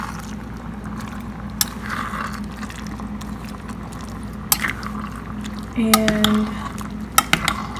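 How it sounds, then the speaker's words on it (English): A spoon stirs a pot of lentils on the stove, giving soft scraping and clinking of utensil against the pot over a steady kitchen hum, with a brief louder clatter near the end and a few words spoken. "Now I'm going to stir all of this around."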